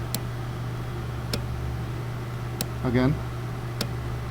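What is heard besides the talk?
relay clicking when cranking a Porsche Cayenne S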